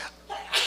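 A single sharp human sneeze, close and fairly loud, rising from a short intake into an abrupt burst during a talk at an award ceremony.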